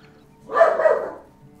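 A single dog bark in the video game Medieval Dynasty, short and moderately loud, rising out of a quiet background.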